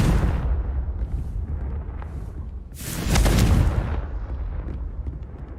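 Bombarda and Confringo spell explosions in Hogwarts Legacy, heavy booming blasts with rumbling decay, one strong burst about halfway through after an initial rolling explosion, no talk.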